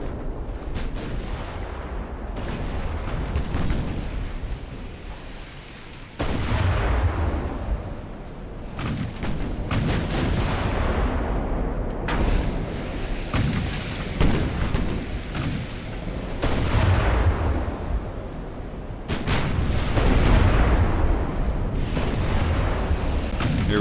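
Heavy battleship gunfire in the naval warfare game Ultimate Admiral: Dreadnoughts, a single battleship fighting a larger fleet; deep booming salvos recur every few seconds over a continuous rumbling roar of sea and engines.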